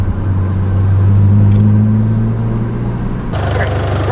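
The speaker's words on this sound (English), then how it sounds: "It pulls hard. It sounds good. Turbo spools nice." A Mitsubishi Eclipse with a turbocharged engine that burns some oil and needs a clutch, running with a steady, close, droning hum that cuts off abruptly near the end.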